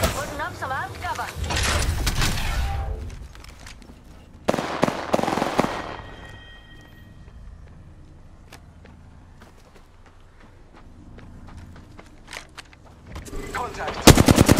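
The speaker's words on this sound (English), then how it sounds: "You're shooting at me." Rapid gunfire bursts crackle in the Apex Legends shooter game, loud and close at the start and again near the end, with scattered single shots in between and players talking over it.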